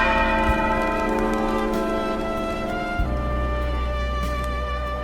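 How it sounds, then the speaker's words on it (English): Church bells ring out across eighteenth-century Paris, their long sustained tones layering into a dense, continuous chime with a fresh stroke near the end, loud and resonant throughout. "Bells ring across the city every hour."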